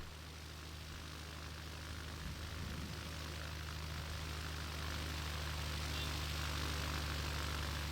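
A small propeller airplane is landing on a runway at St. Thomas. A steady, distant engine drone rises slightly as it comes in, alone and with no talking.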